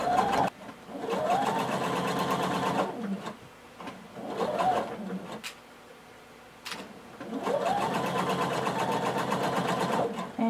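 A sewing machine stitches fabric in close, loud whirring runs of a few seconds each, stopping and restarting with short pauses between them.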